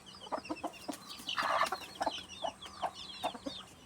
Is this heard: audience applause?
no